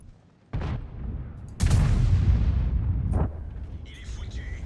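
Tank cannon firing in World of Tanks, two heavy booms with long rumbling decay, one loud and close, over engine drone and faint ambient game sounds.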